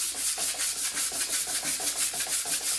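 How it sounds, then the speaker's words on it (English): Sandpaper of 80 grit is rubbed back and forth over a glossy furniture surface in quick, even strokes, a rhythmic scratchy rasp heard up close with no other sounds. "I'm just gonna lightly sand this surface with this 80 grit just to kind of get rid of that glossy finish"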